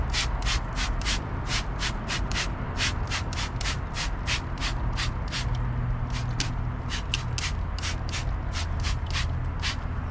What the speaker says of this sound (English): I'm going to go ahead and spray this again.